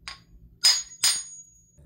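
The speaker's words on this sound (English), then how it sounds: "I need to hammer the side." A hammer taps the side of a two-stroke motorized-bike crankshaft to balance it: two sharp, close metallic strikes about half a second apart, each with a brief bright ring, with a faint soft knock before them.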